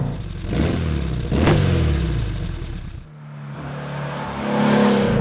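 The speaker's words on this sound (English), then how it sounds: "listen to this engine" A vintage Porsche engine revs hard twice, drops back briefly, then climbs again in a rising, throaty roar, loud and close with no talking.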